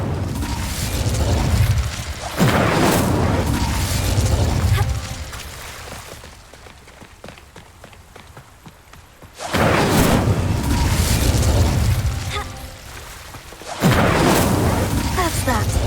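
Incendio fire spells in Hogwarts Legacy erupt in three loud, roaring bursts of several seconds each, separated by quieter stretches of softer game clicks and rumble.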